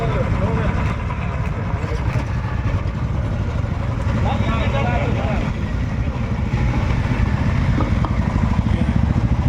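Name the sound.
motorcycles riding slowly in a bike rally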